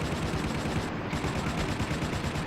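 Sustained rapid automatic gunfire from a Battlefield Vietnam firefight, dense and continuous across the whole stretch, loud with a steady rattling rhythm and no talk over it.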